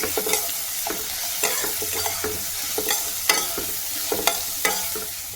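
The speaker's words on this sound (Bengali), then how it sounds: "খুব অল্পই আদা বাটা দিলাম, দিয়ে আবার একটু নেড়ে নিই" Ginger paste is stirred into a curry frying in a pan: a steady sizzle broken by repeated scraping strokes of the spoon against the pan, close up and without speech.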